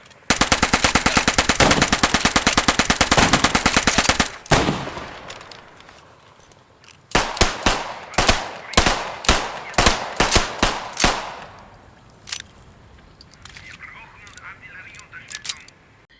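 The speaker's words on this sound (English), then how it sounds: "Every single firearm has a distinctive sound to it in Post Scriptum." Firearms in the World War II shooter Post Scriptum: a long burst of rapid machine-gun fire, then a string of separate loud shots, fading to scattered distant reports.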